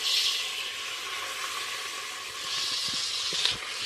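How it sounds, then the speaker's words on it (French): Rabbit fries in butter in a pan, giving off a continuous, fairly loud sizzle that swells near the start and again toward the end. A few faint clinks sound near the close, and no one speaks. "Parce que là, on frit peut-être un peu vite."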